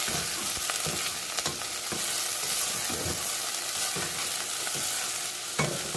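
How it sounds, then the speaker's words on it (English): Vegetables sautéing in a pan for katsu curry, an even crackling sizzle with repeated scraping stirs across the whole stretch, close and steady. "Saute these up, get some nice color on them"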